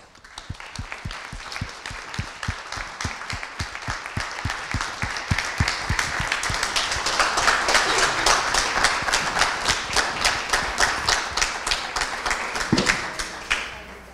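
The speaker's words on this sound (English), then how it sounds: "For those that couldn't see this on live stream, people stood up and applauded." An audience rises to its feet and applauds at a business presentation in Orlando, steady dense clapping that builds and sustains for over ten seconds, fairly distant and with no talk over it.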